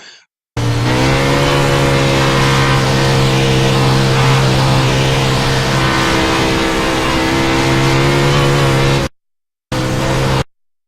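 Race car engine roars loud and close on a slick Knoxville dirt track, holding a steady pitch with small throttle dips, then cuts out abruptly and returns briefly.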